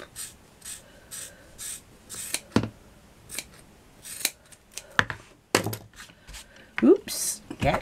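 Scissors snip and trim the edge of a shabby chic craft heart plaque, giving close, crisp repeated cuts in irregular bursts with rubbing and handling noises between them; a voice talks briefly.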